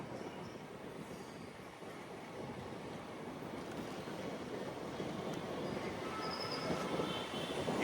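A train rumbles steadily across the Rajahmundry road-cum-rail bridge, a broad continuous roar that swells slightly toward the end, with no voices.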